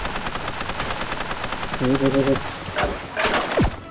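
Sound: gunfire shooting at a sea creature in the video game Super Raft Boat Together

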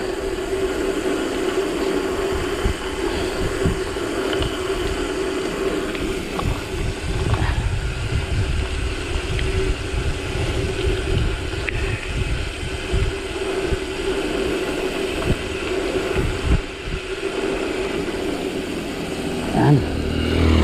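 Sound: passing motorcycles on road

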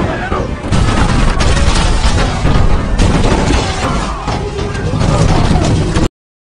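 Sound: gunfire in battle scene

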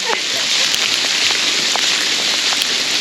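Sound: hail falling in the Carpathian mountains

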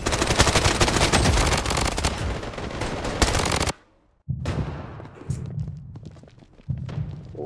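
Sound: burst-fire gun shooting in video game Blood Strike

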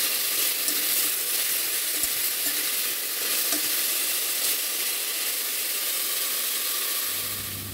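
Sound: stirring sizzling food in a frying pan

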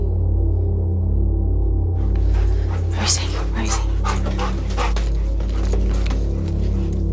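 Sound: police dog barking on TV show

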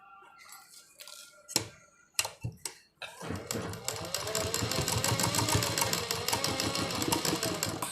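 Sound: sewing machine stitching

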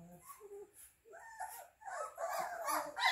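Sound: Newfoundland puppies whimpering

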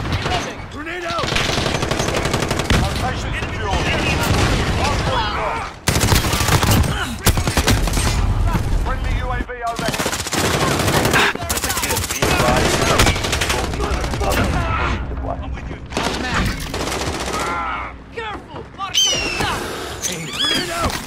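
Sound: gunfire and grenade in a video game

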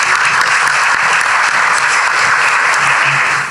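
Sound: strong audience applause for a professor

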